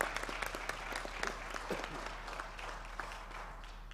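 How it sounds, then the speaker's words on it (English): Audience applause welcoming a guest at a Shrimad Bhagwat Katha gathering, a steady moderate patter of many hands clapping that gradually softens, over a low constant hum. "Please give one round of applause"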